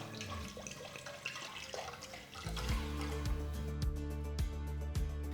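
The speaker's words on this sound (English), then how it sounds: "take a pot, pour enough water." Water pours into a cooking pot for soya chunks, a splashy, gurgling stream that deepens into a steady resonant fill over a few seconds, close and fairly quiet.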